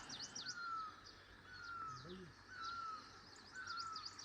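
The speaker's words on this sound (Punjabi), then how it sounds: "ਸੜਕ ਕੱਚੀ ਤੇ ਉੱਪਰੋਂ ਪੰਛੀਆਂ ਦੀ ਆਵਾਜ਼ਾਂ" Birds calling in the quiet Himachal countryside: repeated high chirps and rising whistled notes, with a faint crow-like call in the middle, soft and fairly distant over low background hiss.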